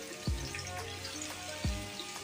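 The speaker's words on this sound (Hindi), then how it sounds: "एक प्याली हमने घी इसमें डाला, घी गर्म हो गया। अब हम इसमें प्याज डालेंगे।" Ground onions dropped into hot ghee in a karahi for restaurant-style Lahori chicken karahi make a steady close sizzle and crackle, with two brief low thumps as more is added or stirred.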